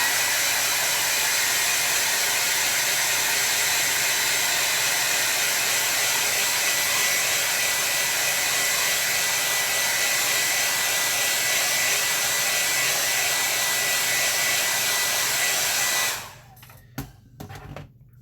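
A hair dryer drying a wet gouache painting, a loud steady whooshing blow running unbroken for about sixteen seconds before cutting off, followed by a few faint knocks.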